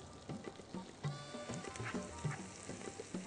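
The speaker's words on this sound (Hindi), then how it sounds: "पालक को आप थोड़ा सा इसमें सोटे करें" Fresh spinach sautés in a hot pan for Iranian borani esfenaj, giving a steady soft sizzle and frying crackle with light stirring scrapes, close and continuous.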